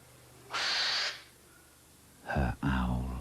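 An owl hoots with breathy, airy calls, one drawn-out note and then a double call a moment later, loud and close.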